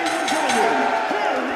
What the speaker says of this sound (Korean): 경기장이 떠날 듯이 환호하는 사람들.